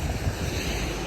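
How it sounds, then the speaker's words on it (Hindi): Rainwater gushes and flows everywhere as a dense, steady rushing wash of water, loud and close, with no voices. "पर भाई बहुत ज़्यादा ही चल रहा है पानी, मतलब हर जगह से निकल रहा है"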